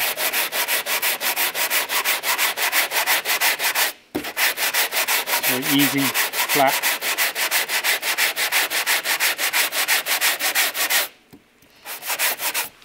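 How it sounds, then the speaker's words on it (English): Rhythmic back-and-forth rasping of a hand sanding block over body filler on a Talbot Sunbeam Lotus classic car's dent repair, steady and close, with a brief pause and a few quiet spoken words. "So we continue sanding."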